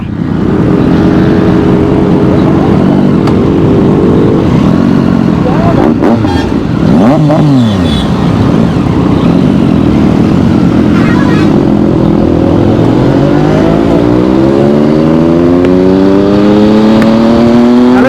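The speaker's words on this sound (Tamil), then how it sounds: "இதில் முறுக்கிட்டு போறாரு நம்ம பூபு." A Triumph motorcycle accelerates hard, its loud engine revving through the gears with rising pitch sweeps, close and continuous for the whole stretch, while voices talk over it now and then.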